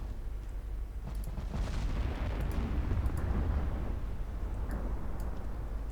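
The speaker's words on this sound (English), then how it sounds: "Why are you firing HE?" Naval guns firing HE shells in a 1947 naval battle game: low, rumbling booms roll and swell over a steady heavy background, with faint distant cracks scattered through.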